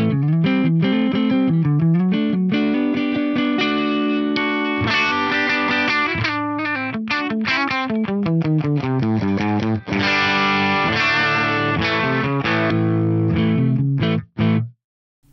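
Les Paul electric guitar with PAF-style humbuckers on the neck pickup, played through an Axe FX 3 amp model with a Greenback cabinet impulse; a continuous distorted riff with chords and single notes, loud and alone, ending in a few abrupt stops.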